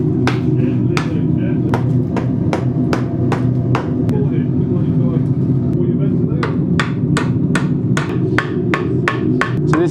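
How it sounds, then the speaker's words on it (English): Hammer chipping ceramic shell mold off freshly cast bronze: sharp, closely spaced taps and cracks in an uneven run over a constant low rumble of machinery, with a short lull partway through. "This is what he's chipping off, which is the ceramic material that they make that shell out of"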